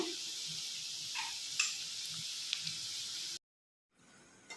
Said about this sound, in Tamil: ஒரு பாத்திரத்தில் எண்ணெயை ஊற்றி எண்ணெய் சூடானதும் இப்போ இந்த வெண்டைக்காவை ஒவ்வொன்றா போட்டு எடுப்போம்